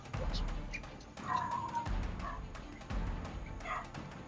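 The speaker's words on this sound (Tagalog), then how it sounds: "May aso na po." Faint dog barks and yips come from a distance amid rustling background noise, with a few soft voice-like sounds mixed in.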